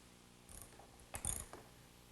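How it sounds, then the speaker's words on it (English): A ratchet tightens the carriage bolts that hold the nut of a wooden bench screw. A few short, quiet clicking bursts come close up, with pauses between them. "the nut of the bench screw right here is fastened with 4 carriage bolts"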